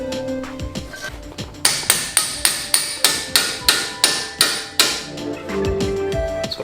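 Sharp hammer blows strike a ball joint on a 2000 BMW Z3 front suspension, about a dozen loud, evenly spaced metallic impacts ringing in quick rhythm before stopping, with some workshop clatter around them.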